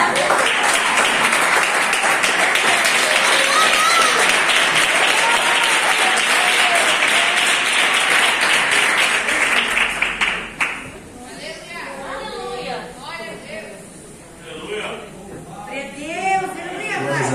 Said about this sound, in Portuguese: batendo palmas bem alegre para Jesus Cristo